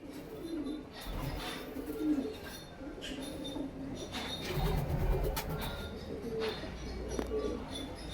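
Pigeons coo softly at a market in Amritsar, giving low repeated throaty calls among faint background chatter and bustle, with some nearby thumps and rustles.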